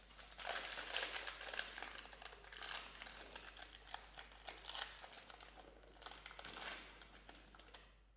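Wrapper of a Gokrunchee pineapple wafer snack being torn open, with close, loud crinkling and crackling of the packaging layers going on steadily throughout, no voices.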